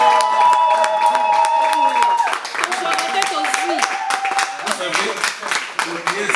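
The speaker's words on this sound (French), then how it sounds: "Il faut applaudir, non?" Applause and clapping from a crowd at a French-language health-march ceremony welcoming new units, a steady, dense patter of hands lasting several seconds, with voices and some tonal background sound mixed in.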